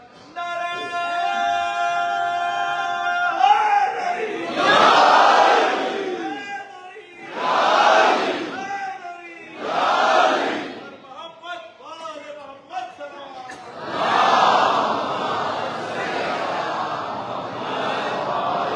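A large crowd at a religious gathering chants a slogan in loud rhythmic bursts answering a single voice, swelling and fading several times, with a held tone at the start.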